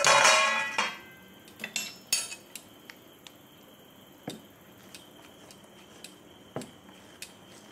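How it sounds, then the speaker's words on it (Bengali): A lid comes off a container of fermented dosa batter for masala dosa: a short rustling scrape at the start, then a scatter of light, close clicks and taps that fade into quiet. "এবার আমি ঢাকনাটা খুলে দেখে নেব।"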